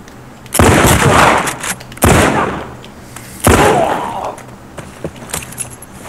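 Three loud, close shotgun blasts in The Last of Us 2, each a sharp broadband crack with a short decaying tail, spaced about a second and a half apart, followed by quieter clicks and handling noises.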